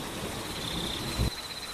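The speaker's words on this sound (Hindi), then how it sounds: "बरसात अब बूंदों से तेज धार में बदल चुकी है।" Heavy rain pours as a horror-story sound effect, a steady dense hiss that builds to a torrent, with a brief low rumble near the end like distant thunder.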